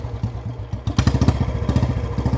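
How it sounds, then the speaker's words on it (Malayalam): Royal Enfield Bullet motorcycle engine running close by, a steady low thumping beat that picks up and grows louder partway through, with a rattling clatter over the pulses, somewhere on Lakshadweep. "അപ്പം നമ്മൾ ഇന്ന് പോകാൻ പോണത് ബുള്ളറ്റിലാണ് കേട്ടോ."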